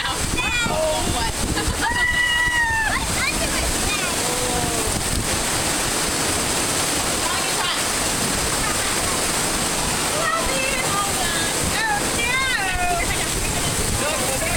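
Water rushes and splashes around a raft on the Kali River Rapids ride, a loud continuous roar of churning spray heard close up, with people shouting and talking over it.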